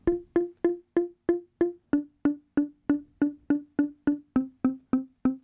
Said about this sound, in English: you're going to hear just this synth with no effect on it